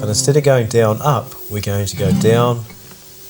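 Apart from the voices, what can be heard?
No distinct noise like a dog, phone or traffic.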